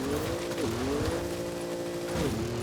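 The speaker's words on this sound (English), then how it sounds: "It sounds like the stock EcoBoost Ford." Stock Ford EcoBoost engine in a car racing hard through Forza Horizon, a steady loud drone with pitch dips at two gear shifts, alone with no talk.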